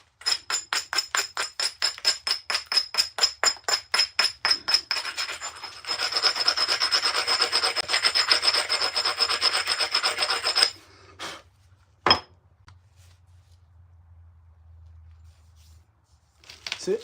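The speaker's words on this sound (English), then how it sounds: "More scraping, more abrading." Rhythmic scraping and abrading of a knapped stone tool, about a dozen quick rasping strokes followed by a denser stretch of continuous rubbing, then a few isolated scrapes and near silence.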